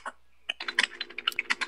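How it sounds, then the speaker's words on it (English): Fingers typing on a computer keyboard, a quick irregular run of close clicking keystrokes after a brief pause, with no voices. "Uber Mike typing away"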